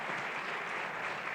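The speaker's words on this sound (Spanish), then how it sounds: "Gracias por aplaudirnos." Studio audience applauding on a live television talk program, a steady dense wash of clapping throughout at moderate level with no voices over it.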